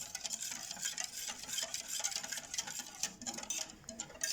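Spoon scraping and clicking steadily against a bowl while dough is stirred with rapeseed or sunflower oil and a pinch of salt, close and fairly quiet, with no talk.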